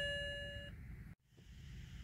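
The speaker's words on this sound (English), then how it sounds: "you'll hear the chiming come on" On power-up, a BMW E90 328i instrument cluster gives a single clear electronic chime that rings and decays, followed by a brief dropout and a quiet cabin hum.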